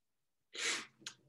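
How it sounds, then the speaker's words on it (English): A single close, sharp sneeze bursts out after a moment of quiet, followed by a short sniffing breath, heard indoors during a physics lecture on electric current. "I was about to sneeze."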